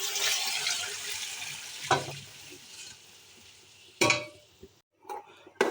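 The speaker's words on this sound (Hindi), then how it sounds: "अब शामिल कर देनी है यखनी।" Broth pours into a sizzling pot of beef paye with a rushing splash that fades, followed by a few short clanks and sloshing bursts.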